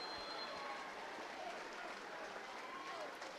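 A wrestling crowd at a high school team sectional meet claps loudly and steadily in a gym, a dense continuous wash of applause that fills the whole moment.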